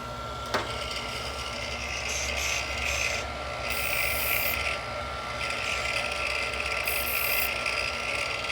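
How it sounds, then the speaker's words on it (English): Polishing stone deburring the edges of an engine part, a repeated scraping and rasping in short bursts over a steady workshop hum, close and moderately loud, with one sharp click near the start. "So basically kind of like a deburr, clean up the edges so it's rounded."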